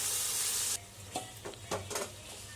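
Veg keema tomato masala frying in a pan: a steady loud sizzle, then quieter frying broken by several scraping stirs of a spoon, close up with no talking.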